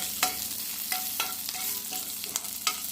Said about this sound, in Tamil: பச்சை மிளகா போட்டு பண்ணலாம் நல்லா நிறம் மறு பச்சை மிளகா வறுத்துட்டு